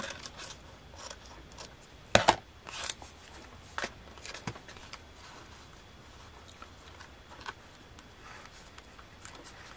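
Scissors cut through paper in a run of crisp snips close by. A louder burst of cuts comes early, then lighter scattered snips over quiet room tone, with no talking.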